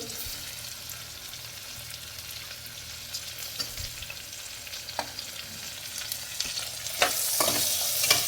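Green chilli, curry leaves and onion tempering in a frying pan, giving a close, steady sizzle with occasional stirring clinks that grow louder and brighter toward the end.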